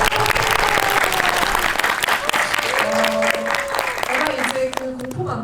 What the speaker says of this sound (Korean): 추운 겨울에 그 투혼을 발해주신 두 분께 박수를.